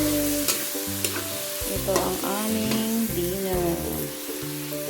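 Galunggong fish frying in a pan with onion and tomato, a steady close sizzle with stirring scrapes, while a voice talks over it throughout.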